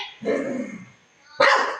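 A dog barks twice nearby, a longer low bark followed after a pause by a sharper, higher one.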